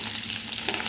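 Onion and curry leaves frying in hot oil for a tempering, the base of a lentil-free sambar, giving a steady, close, crackling sizzle throughout with no voices.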